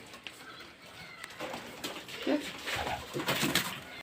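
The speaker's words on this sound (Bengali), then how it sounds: "এটা একটা অসাধারণ একটা পায়রা" Pigeons kept for sale cooing softly nearby, a few low murmuring calls rising and falling over faint background noise and scattered rustles, with no voices.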